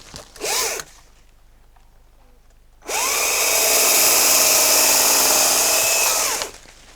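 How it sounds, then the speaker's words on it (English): Chainsaw pruning a limb of an Afourer mandarin tree: a brief rev, a few seconds of quiet idle, then a loud, sustained high whine as it cuts for several seconds before dropping off, close by. "I'll grab my chainsaw."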